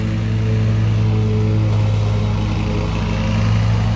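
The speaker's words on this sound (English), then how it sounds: "lawnmowers going all over the place" Lawnmowers run outside on a clear day, giving a loud, continuous engine drone with a steady low hum and no break or talking.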